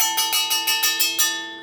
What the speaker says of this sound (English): Yeah, I will ring the bell.